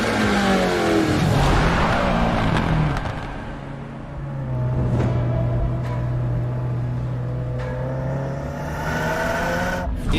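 A 2022 Subaru WRX engine revs and rumbles loudly, with its pitch rising and then falling through a long, sustained drone, close and powerful, with no talk.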